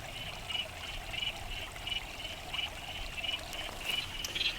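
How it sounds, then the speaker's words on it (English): Creek water running fast after seasonal flood rains trickles and burbles steadily, with a soft, continuous rush and small repeating splashes close by. No voices are heard. "it's moving fast enough here that you can actually hear it trickling"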